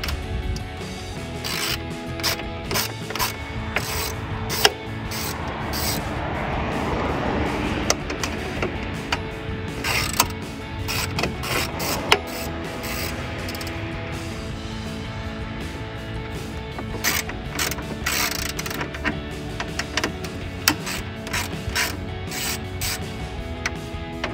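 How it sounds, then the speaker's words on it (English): A ratchet turns a 10mm socket to back out the bolts on the emblem housing of a 2018-2020 Ford F-150 grille. Dense, steady clicking and rattling runs throughout, with occasional sharper ticks and knocks close by. "So it's a 10mm socket here and a ratchet."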